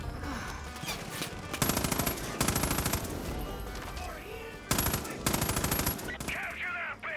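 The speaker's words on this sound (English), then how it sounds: "Incoming fire." Bursts of machine gun fire in the video game Far Cry 5, several sustained rapid volleys separated by short gaps, loud and close, with brief shouted voices between them.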